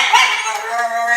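A husky-type dog on a diet lets out a dramatic whining bark, a short yelp followed by a sustained, loud, wavering howl-like vocalization close to the listener.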